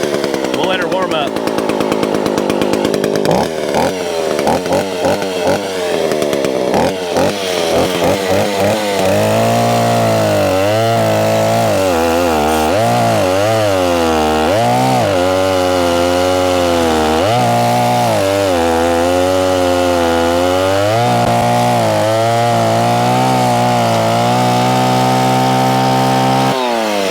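A Stihl chainsaw engine idles and revs loudly while warming up, close by, with a steady droning pitch that rises and falls through repeated throttle blips; sharp sputtering bursts mark the start.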